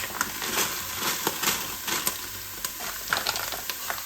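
Onions and brown sugar sizzle and caramelize in a pan for a seafood boil, a dense continuous crackling fry with occasional stirring scrapes, close and fairly loud.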